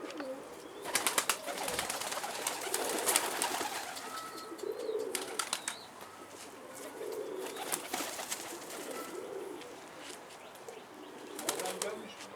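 Racing pigeons coo softly while wings flap in short bursts, close by, with occasional quiet background voices.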